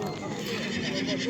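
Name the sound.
horse neighing at horse market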